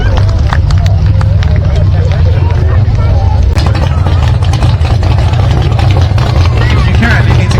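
Hot rod exhaust at a Cornwall hot rod, street rod and custom car show: a loud, deep, steady engine rumble close by, with someone talking over it on a public address throughout.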